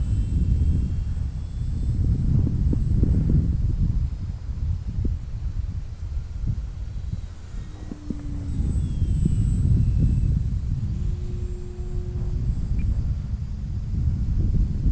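A steady engine drone rumbles throughout, rising and falling as a small Skynetic Shrike radio-controlled plane flies around, with wind buffeting the microphone.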